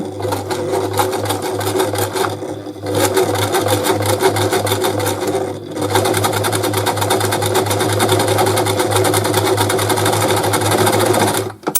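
A Brother Boutique 30 sewing machine runs a faggoting stitch, humming loud and close with a fast, even needle rhythm that pauses briefly twice and keeps going for nearly twelve seconds.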